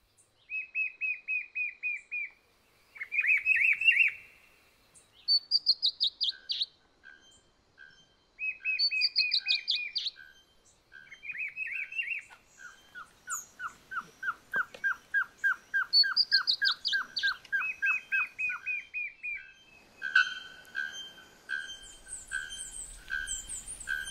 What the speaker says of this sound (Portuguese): Tem algumas saíras vocalizando aqui do lado, são, puxa vida, são saíras lagartas, a Tangara desmareste